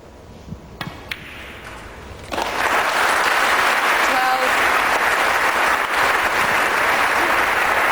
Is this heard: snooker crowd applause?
yes